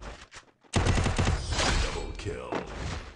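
Gunshots crack in a shooting video game: a couple of early shots, then a loud, dense burst of rapid fire that keeps going to the end.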